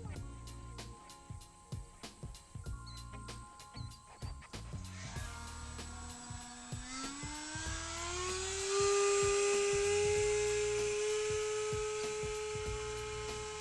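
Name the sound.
RC glider electric ducted fan, throttle cutting out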